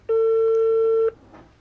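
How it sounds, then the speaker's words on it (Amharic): A single steady electronic telephone tone sounds for about a second, loud and clean, then stops, followed by a faint soft noise. "እየጠራ ነው"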